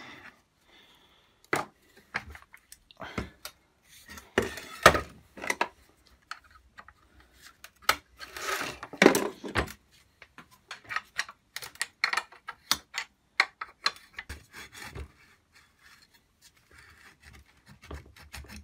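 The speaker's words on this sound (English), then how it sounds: "So this thing should should come off. The handle should come off. Let's get that off as well." Handle being removed from a JCB angle grinder, heard as a series of close, irregular plastic clicks, taps and rubbing knocks with pauses between, no talk.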